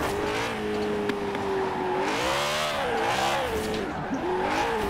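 BMW i8 in the Forza Horizon 4 racing game, its engine revving in rising and falling sweeps with tire squeal while drifting, loud and continuous throughout.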